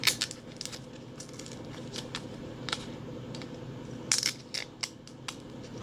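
Outer skins being peeled off winter garden produce, giving a run of small crisp crackles and tearing snaps, some close together and some spaced out, over a steady low background hum.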